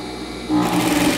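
A sewing machine starts up and stitches a mitered corner on a cloth diaper and fabric, running in a fast, steady buzzing whir after a brief quieter hum, close and alone.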